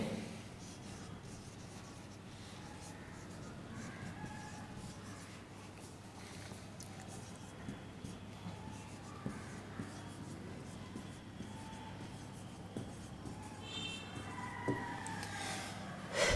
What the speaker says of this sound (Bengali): এখানে আমরা সেটাই লিখব।